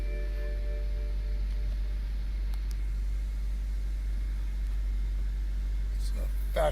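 A 2008 BMW 535xi Touring Wagon engine idles just after a push-button start, giving a steady low hum that stays even throughout, with a brief sharper noise at the very end.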